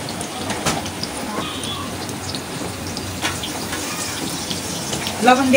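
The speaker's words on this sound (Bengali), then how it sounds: "যেমন আমরা মাছ ধুই, মাছ ধোয়ার মতন করে প্রচুর মুখি ধুইবেন" Taro roots (kochur mukhi) are scrubbed with salt under running water, giving a steady close splash and trickle with rubbing noises throughout and a brief louder splash near the end.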